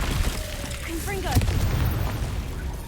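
Confringo fire-blast spell in Hogwarts Legacy: a single booming blast lands mid-clip over a rumbling low bed of game sound, with brief whooshing sweeps leading into it and a voice calling out just before.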